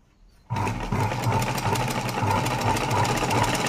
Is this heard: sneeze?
no